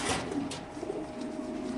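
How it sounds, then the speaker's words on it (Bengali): Racing pigeons kept in caged pairs on a pigeon farm, giving a continuous low cooing murmur with a few brief flutters nearby. "খাঁচা নাম্বার 78, এক জোড়া কবুতর খুব সুন্দর।"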